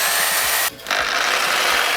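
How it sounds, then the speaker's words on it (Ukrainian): A Dnipro-M reciprocating saw with pendulum action cuts a 150 by 50 wooden board, a loud, steady rasping buzz that drops out briefly midway and then resumes, with no talk. "давайте перевіримо хід пилки"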